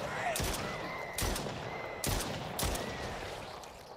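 Gunfire in the video game Stray Souls: four sharp, loud shots spaced about a second apart, each with a short ringing tail over a quiet background.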